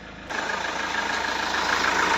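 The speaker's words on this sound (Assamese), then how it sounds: "গাড়ী ষ্টাৰ্ট হৈ গৈছে" A car engine catches during a major service and settles into a steady, close, even idle with a fast low throb, following a brief quieter moment at the start.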